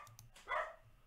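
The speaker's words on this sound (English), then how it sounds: "Sorry, dog just got freaked out." A startled dog gives a single sharp bark indoors, close and moderately loud, with faint background knocks before and after.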